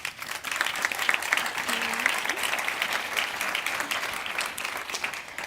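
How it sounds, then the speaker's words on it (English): Steady clapping from a room full of people, sustained and even for several seconds without a break. "a very big applause for these 3 EU influencer newcomers"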